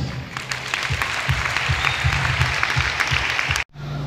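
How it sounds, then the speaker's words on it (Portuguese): Church congregation giving a round of applause for a play, dense steady clapping that fills the room at close range, then cuts off abruptly near the end. "Eu quero uma salva de palmas para essa peça."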